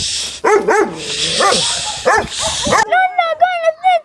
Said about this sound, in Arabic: ولك على شوف الكلب قرب علينا لازم نستعجل امش.